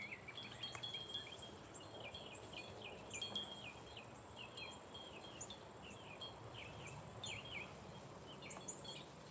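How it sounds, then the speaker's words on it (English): Birds sing outdoors at a distance, giving repeated short chirps and trills over a faint, steady background hiss. "The birds is happy."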